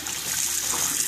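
Water pours steadily from a household faucet into a sink, a continuous close hiss and splash with no pauses.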